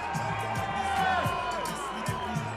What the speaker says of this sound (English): A bit of pantomime booing.